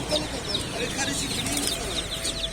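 Many chicks chirp in a busy, continuous chorus at an outdoor poultry market, with other fowl and a murmur of voices in the background.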